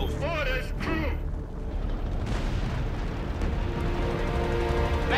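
Artillery firing smoke shells in the game Company of Heroes 3, a continuous heavy rumbling roar of blasts and booms with voices talking over it.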